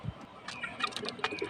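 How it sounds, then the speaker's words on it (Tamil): Chickens cluck in short, irregular calls while being fed, several birds close by with brief overlapping vocalizations. "கோழிக்கு தீனி வச்சாச்சு, அவங்க சாப்பிட்டுட்ருக்காங்க."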